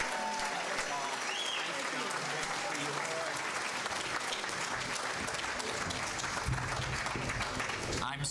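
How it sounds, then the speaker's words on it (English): Sustained audience applause from a large room at a Rotary training event, steady dense clapping filling the whole stretch, with a voice faintly audible underneath. "Please give a round of applause to the Aloha District Governors."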